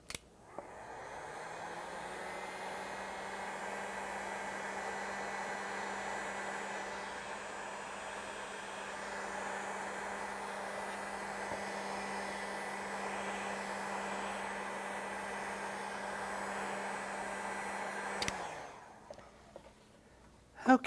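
A hair dryer runs steadily and close for about eighteen seconds, drying an acrylic painting of trees and a meadow, a constant whooshing drone with a low hum, then switching off abruptly near the end.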